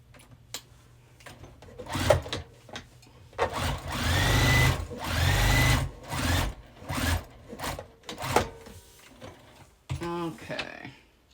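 A sewing machine runs a basting stitch across a tea bag wallet in bursts of varying length, with mechanical whirring and clicking. Brief pauses and handling noises fall between the bursts.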